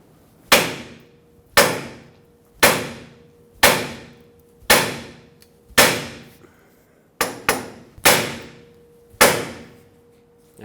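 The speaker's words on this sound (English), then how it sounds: "One is to hammer right on this tie rod." Heavy, ringing hammer blows strike the right outer tie rod of a 2000-2005 Ford Excursion, about ten loud, evenly spaced hits with metallic decay, including a quick double strike partway through.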